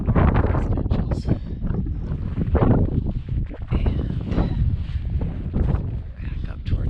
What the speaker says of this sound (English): The wind is starting to pick up on this side of the mountain